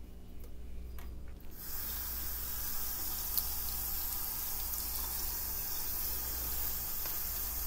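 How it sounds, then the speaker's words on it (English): Water runs steadily from a kitchen tap for washing vegetables, starting abruptly after a short quiet moment and then flowing as a continuous close hiss. "So let's get the water going."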